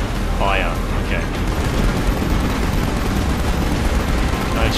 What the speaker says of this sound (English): Use the machine gun to take down the unit Immortalis.